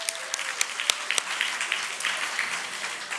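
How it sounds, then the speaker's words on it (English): An audience at an awards event applauds, a fairly close crowd clapping with a few sharp individual claps standing out above the steady patter, lasting about three seconds. "Give yourselves a big round of applause."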